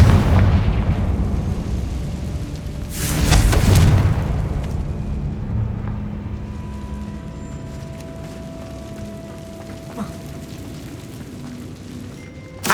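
A single loud blasting explosion from the Confringo spell in the video game Hogwarts Legacy, a booming burst around the middle followed by a fading rumble and quiet ambient tones.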